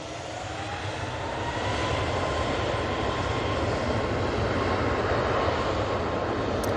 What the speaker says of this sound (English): let's jump on to the Ryanair Max.